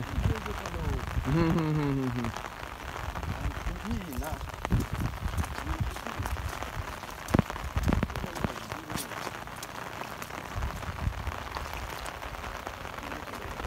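Steady rain falls over a river where fishermen are catching fish, a dense hiss of drops running throughout, with a voice heard briefly near the start.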